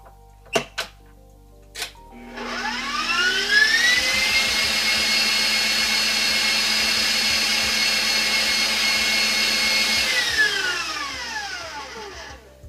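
An electric mixer whirs steadily for about eight seconds, beating cake batter with vanilla for a raspberry tres leches cake, its whine ramping up and winding down, after a few sharp clicks.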